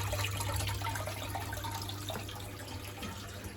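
A WFP3300 washing machine pump pushing out rinse water mixed with citric acid and limescale, a steady gushing hiss with a low motor hum underneath, close and continuous.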